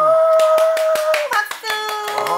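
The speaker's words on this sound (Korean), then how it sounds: "박수!" A group of people clap in a quick, even series of about eight sharp claps, close by, under voices inside a porridge shop at a traditional market in Korea.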